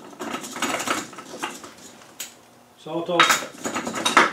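A greased steel pin tapped into a steel bushing during an LT230 transfer case rebuild, a few close metallic clinks and light taps with a short ringing tone, and someone briefly speaking.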